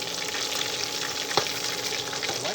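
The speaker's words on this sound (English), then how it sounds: "I'm going to go ahead and I'm going to fry up the next batch" Chicken pieces for sesame chicken fry in a pan with a steady, dense sizzle and crackle, close and continuous, with one sharp pop midway and no talking.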